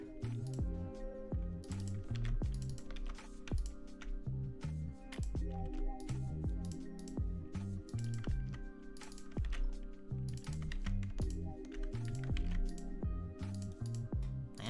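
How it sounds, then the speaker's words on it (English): Rapid, irregular clicks from typing on an old computer keyboard run throughout, fairly faint beneath a steady musical background. "I am using my old keyboard today,"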